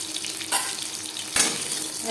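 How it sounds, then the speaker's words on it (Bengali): Marinated fish fries in a pan with a continuous hiss, and two brief louder bursts of spatter, close up. "মাছ একটা সাইড ভাজা হয়ে গেলে অপর সাইডটা উল্টে দেবো"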